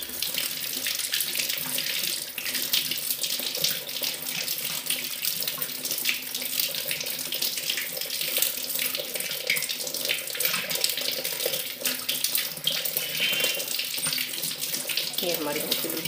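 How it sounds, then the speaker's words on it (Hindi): Tap water runs steadily from a faucet while a silver idol is rinsed underneath, a continuous loud splashing hiss with no speech. "और नल के नीचे धो लेंगे।"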